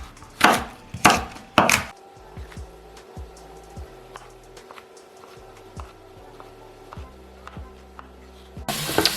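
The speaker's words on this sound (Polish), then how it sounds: "I paprykę kroimy sobie na mniejszą kosteczkę, tak żeby również szybko nam doszła i zmiękła." A bell pepper is diced into small cubes on a board: three loud, close knife chops, then a quieter stretch of faint ticking taps, and one more heavy chop at the end.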